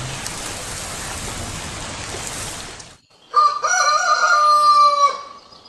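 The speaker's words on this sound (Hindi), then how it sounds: "लगातार आज सारा दिन ही बारिशें होती रहती हैं।" Steady rain hisses down for about three seconds in a cartoon scene, then briefly cuts out before a loud, close rooster crows alone.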